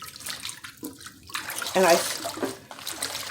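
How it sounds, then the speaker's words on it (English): Warm water running from a tap into a sink for washing greens, a steady broadband wash that swells briefly in the middle, heard close under a person talking. "This is how I clean my greens. Get you some nice warm water."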